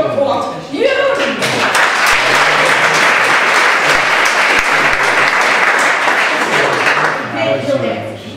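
An audience at an election event bursts into loud, sustained applause, dense clapping that swells after a brief spoken introduction, holds steady for several seconds, then tapers off.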